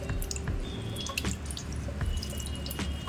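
Water drips steadily from a cloth bundle of freshly rinsed chhena being squeezed by hand for rasmalai, with scattered close drops and a gentle trickle against a soft background.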